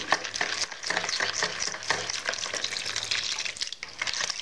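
Milk is poured into brioche batter while it is stirred, giving a steady wet swishing and sloshing with a continuous liquid hiss throughout.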